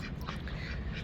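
Chickens calling in a rural farmyard where ducks and hens roam, a short, clear burst of squawking, quacking-like calls close by over steady outdoor background noise.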